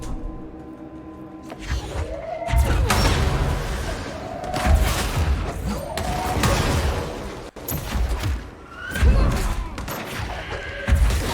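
Loud booming explosions in the video game Control roll out one after another, each a heavy thud with a whooshing tail, spaced irregularly over about eleven seconds.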